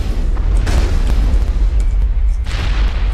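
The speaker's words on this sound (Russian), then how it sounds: "Иногда полезно взрывать гранаты." Grenade blast in the video game Mass Effect, a deep, loud booming rumble that fills the whole stretch, with a second heavy burst near the end.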